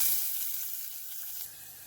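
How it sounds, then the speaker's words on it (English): Onions sauté in a pan over low to medium heat, giving a steady soft sizzling hiss at close range that fades slightly, with no voices. "Saute the onions on a low to medium heat setting for a couple of minutes."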